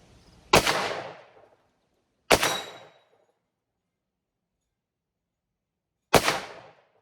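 Three loud 1911 pistol shots fired at a steel ringer target, each a sharp crack with a short ringing decay; the first two come close together, the third after a longer pause.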